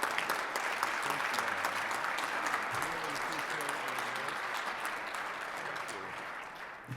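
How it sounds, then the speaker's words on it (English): Rotary club meeting audience applauding, a sustained dense clapping that fades gradually toward the end while voices talk faintly underneath. "So let's give John Cunningham another big round of applause"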